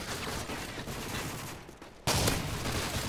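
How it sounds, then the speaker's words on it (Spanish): Rapid, loud gunfire bursts from shotguns in Modern Warfare 3, a dense barrage that drops off briefly and then returns even louder and closer. "Tres tiros de escopeta."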